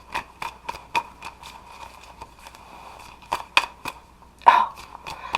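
Tarot cards are shuffled by hand close up, a series of soft irregular snaps and riffling clicks with a louder flurry near the end, alone with no talking.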